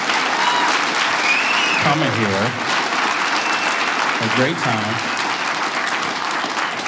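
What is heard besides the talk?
audience applause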